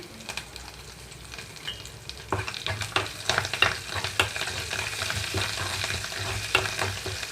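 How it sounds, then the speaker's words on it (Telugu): Spice tempering for tamarind-leaf tomato chutney sizzles and crackles in a hot pan, growing louder partway through, with repeated scraping strokes of a spoon stirring, close up. "తాలింపు అంతా వేగిన తర్వాత ఇందులోకి కొంచెం కొత్తిమీర కూడా వేసేసుకొని"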